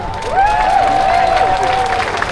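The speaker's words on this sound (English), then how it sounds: "Yes, we can applaud." Crowd applause and cheering at an outdoor Canada Day celebration in Ottawa, a loud mass of clapping with whoops and shouts rising above it as a royal guest is welcomed.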